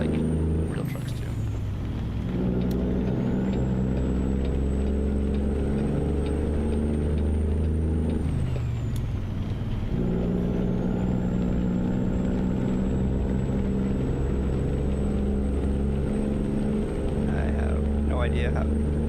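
Modded heavy truck in a driving game, with a steady low diesel engine drone throughout and hissing air-brake releases around the two-second and ten-second marks, loud and close.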